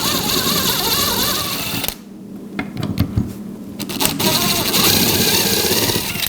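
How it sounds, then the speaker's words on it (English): Drill with a combination bit boring self-centering screw holes for a door hinge, a steady high whirring buzz that stops briefly for a few clicks and handling knocks, then resumes, close and loud. "We're gonna go ahead and use our combination bit here, and we can self-center these holes."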